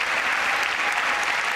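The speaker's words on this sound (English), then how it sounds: "You notice he says that every time there's a clap?" Steady audience applause fills the chamber during a presidential State of the Union address, a dense, even clatter of many hands sustained at full strength with no break and no talk over it.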